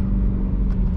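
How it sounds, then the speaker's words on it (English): BMW M3 E90 V8 with full active exhaust, X-pipe and high-flow cats, heard from inside the car as a brief deep engine rumble during a rev-matched downshift, a short low blip over a constant drone. "Rev match"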